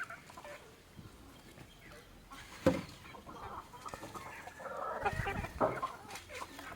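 Chickens cluck and squawk inside a coop at midday feeding time, with a sharp loud squawk partway through and busier clucking later, set against low background noise.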